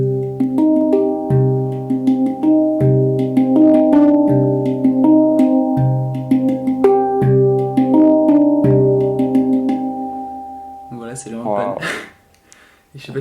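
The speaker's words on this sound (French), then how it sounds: "Et j'aurai mon handpan." A handpan rings out with a sequence of resonant, bell-like metallic notes that overlap and decay one after another, close and clear; near the end the notes fade and a voice comes in briefly.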